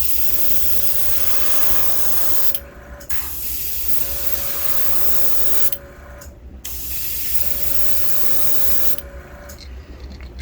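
An airbrush sprays burnt orange-brown paint onto a vintage Storm Wiggle Wart V36 fishing lure, three long bursts of close, steady hissing, each followed by a short pause.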